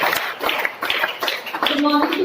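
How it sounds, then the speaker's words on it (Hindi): A school audience claps loudly for Bhumi, a class 12 student, as she comes up: a dense crowd of hands near and steady, with voices mixed in. "भूमि दीदी के लिए जोरदार तालियां"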